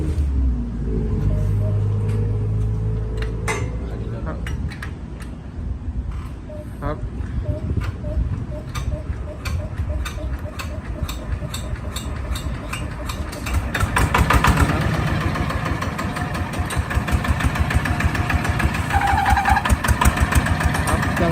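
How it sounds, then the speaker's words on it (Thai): A Kubota 155 Plus diesel engine on a two-wheel walking tractor cranks and starts, then settles into a loud, steady knocking idle that grows somewhat heavier partway through, with someone talking intermittently over it. "จะลองติดเครื่องให้ฟังนะครับ"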